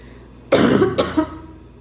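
A close, loud allergic cough bursts out twice in quick succession, then a smaller throat sound, with quiet before and after.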